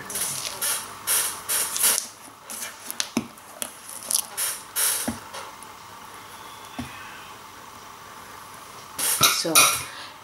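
Spatula scraping the bottom of a mixing bowl while mixing butter for a yema cake: repeated scraping and clinking strokes in bursts, close, with a louder flurry near the end, no talking.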